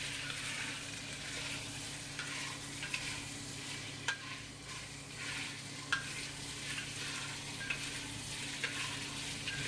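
Minced garlic sizzles in a pot for a vegetable stew, a steady close frying hiss broken by a few sharp clicks and scrapes of stirring.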